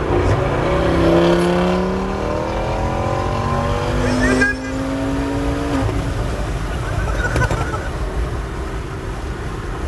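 An Audi RS6 tuned to a V10 at 1000 hp accelerates hard in third gear, with a loud, rising engine note sweeping upward, a shift partway through and continued roaring from inside the car.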